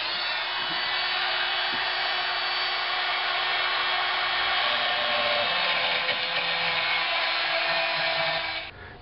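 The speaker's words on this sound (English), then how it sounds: "Oh, it's a die grinder." A die grinder whines in one long, steady, high-pitched stretch as it slots metal shock mounts, loud and close throughout before cutting off at the end, with no talk.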